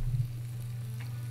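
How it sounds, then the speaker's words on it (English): Faint, steady sizzling of food frying in a pan, a soft continuous crackle with a low hum underneath, no voices. "See, it's sizzling now."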